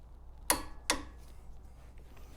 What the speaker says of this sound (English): You're going to want to tighten it until you hear a click.